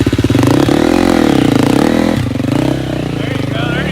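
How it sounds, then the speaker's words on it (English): A motocross bike engine running on a canyon ride, a loud close pulsing drone that wavers in pitch as the revs rise and fall, with talk heard over it. "It's actually a motocross bike, so it's super sick."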